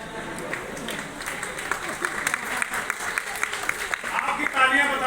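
Audience applause at a Hindi talk, steady clapping throughout, with the speaker's voice continuing over it and a louder swell near the end.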